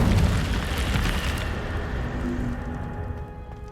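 The Incendio fire spell bursts out in Hogwarts Legacy as a loud, close roaring blast of flame. It fades gradually into a hissing, crackling tail over a few seconds, and no one speaks over it.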